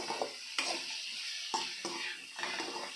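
Brinjal roast is stirred in a pan, with a quiet sizzle beneath a few distinct scrapes and clinks of a utensil at irregular intervals.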